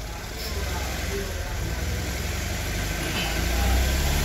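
A repaired Hyundai i20 engine, fixed at the number 4 injector, runs steadily at idle with a continuous low rumble, close and even throughout with no knocking.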